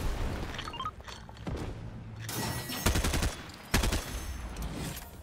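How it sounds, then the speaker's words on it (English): Rapid bursts of automatic gunfire from a Fortnite match, loud and clustered with a couple of sharp volleys and booming impacts, heard without any talking. "Who's shooting?"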